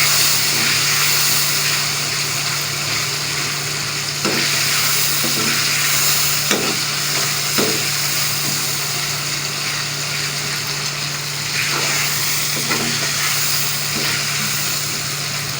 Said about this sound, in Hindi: इसमें गरम मसाला डालेंगे और साथ में जीरा डाल देंगे। फिर से मिक्स करेंगे।